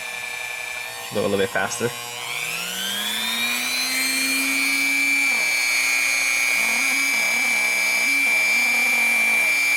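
A rotary buffing tool works over a scratched watch case, holding a steady whine that climbs in pitch as the speed picks up and then stays loud and sustained, with brief pitch wobbles near the end; a voice speaks briefly early on.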